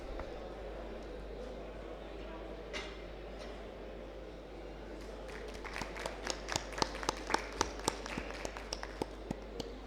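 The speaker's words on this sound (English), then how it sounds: "Please keep clapping for the amazing speakers we had here today" An audience at a rail industry expo claps for speakers, the applause building into scattered sharp hand claps after a stretch of low room noise and indistinct talk.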